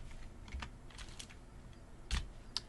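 Quiet keystrokes on a computer keyboard while entering a command in a terminal, a handful of soft separate clicks with a slightly louder tap near the end.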